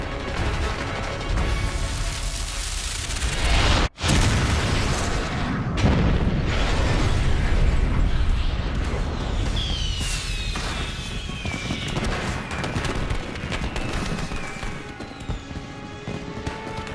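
A warehouse full of fireworks explodes in a loud, sustained roar of blasts and crackling, with a sharp cut near the start and whistling bursts later.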